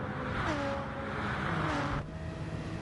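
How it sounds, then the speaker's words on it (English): A big BMW Group B rally car winds up in a racing game at Circuit de Sainte-Croix, its engine note climbing through gears as it accelerates past, a moderately loud rising drone that cuts off sharply near the end. "Yep, the big BMW will wind up. Here it comes."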